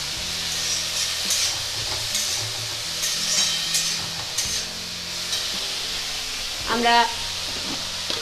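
Cabbage with chilli powder is stirred in a hot pan, giving a moderate sizzle with scraping spoon strokes and a short clattering burst, while a voice speaks briefly over it.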